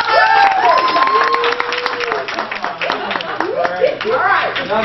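Seminar audience applauding and cheering in a room, a dense sustained wash of clapping with shouted cheers rising over it, loud and close, with a voice talking through it.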